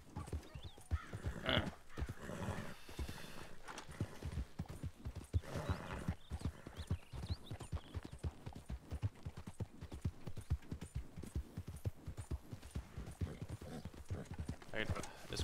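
Horse hooves clip-clop steadily in a Western-themed video game, a quick regular rhythm of close, distinct hoofbeats running throughout, with an occasional whinny and a voice talking over the ride.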